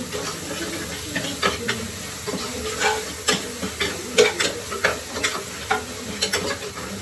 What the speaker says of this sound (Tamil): இஞ்சி பூண்டு வந்து நல்லா வதங்கிருச்சு